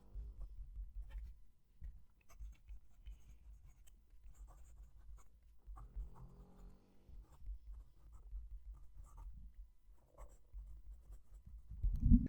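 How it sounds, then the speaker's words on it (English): Fountain pen scratching across paper, close and quiet, with soft irregular strokes and small ticks continuing throughout. "I'm going to move the mic down to the page so you can hear the pen writing."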